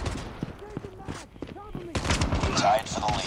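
Gunfire in a shooter video game, short bursts of shots under a man's speech, growing louder and denser in the second half.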